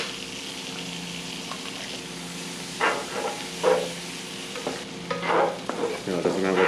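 Garlic frying in a pan for kimchi fried rice: a steady background sizzle with bursts of louder crackling and scraping as it is stirred, close and alone.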